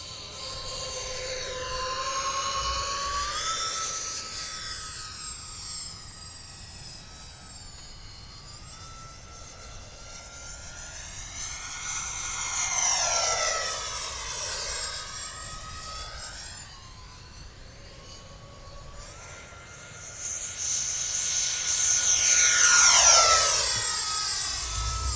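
An E-Flite F-14 Tomcat RC jet with twin 40mm electric ducted fans flies past repeatedly, its high whine rising and falling with throttle and passes, swelling loud as it nears and fading between, with no talking.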